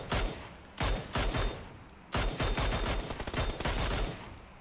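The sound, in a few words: gunfire in PUBG video game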